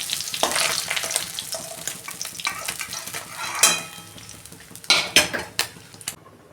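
Fried fish head lifted out of hot frying oil with a utensil, giving a steady sizzle with metallic scrapes and clinks against the pan, close and fairly loud, a few sharper knocks near the end.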